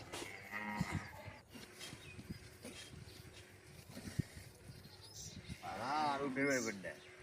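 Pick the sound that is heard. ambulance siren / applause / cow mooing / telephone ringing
cow mooing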